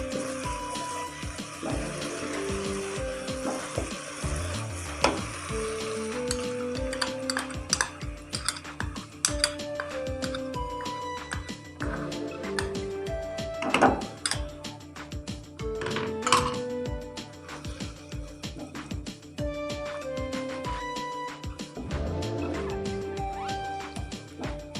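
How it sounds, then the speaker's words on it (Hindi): A spoon repeatedly scraping and clinking in a pan as yogurt is stirred into a frying fish curry masala, with irregular clattering knocks and sizzling over a steady background. "मुसलसल चमचा भी हिलाएंगे, इसके अंदर दही शामिल की है।"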